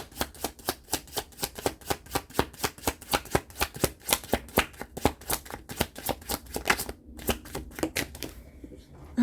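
Tarot cards are shuffled by hand in quick riffling bursts that repeat at a steady rhythm, close and crisp, with a brief pause near the end.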